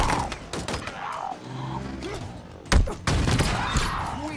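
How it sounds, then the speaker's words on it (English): Rocket launcher shots in Halo Infinite multiplayer: several sharp booming blasts and thuds amid chaotic battle noise, with a heavy impact partway through and continued explosive clatter afterward. "Rocket launcher."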